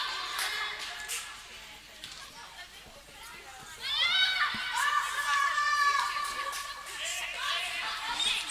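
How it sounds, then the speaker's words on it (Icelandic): Spectators in the stands at a girls' under-age football match in Iceland cheer and shout in high excited voices, with a swell of crowd noise rising mid-way over general chatter. "Áhorfendurnir í stúkunni farinir að láta heyra í sér"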